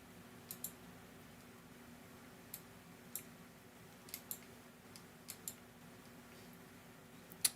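Computer mouse buttons click sharply and sparsely, about a dozen faint, irregular taps against a quiet room hum.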